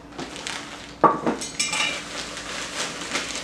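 Salty codfish bits are tipped into a pot with a sharp metallic clink followed by several softer knocks and rustles, heard close and fairly quiet against a low background.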